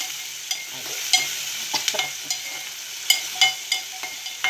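Onions fry with salt in a pan for a Telugu vada pulusu dish, a soft continuous sizzle punctuated by repeated light stirring clicks and scrapes, close up with no talking.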